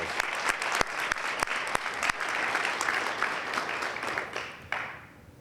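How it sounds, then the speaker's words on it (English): A crowd applauds steadily for several seconds, dense clapping that tapers off toward the end, with a few sharp louder claps up front. "we'll give her a round of applause"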